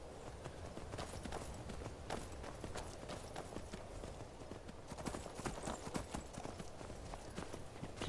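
Rapid, steady clip-clop of horse hooves running in the video game Skyrim, a continuous rhythmic clatter at moderate distance with no talk.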